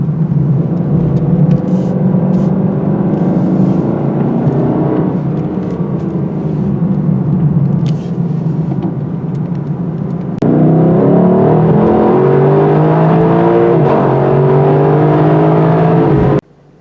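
A 2023 Lexus LC 500 with a V8 is driven fast through corners at night, its engine a loud, steady roar with shifting pitch that cuts off abruptly at the end.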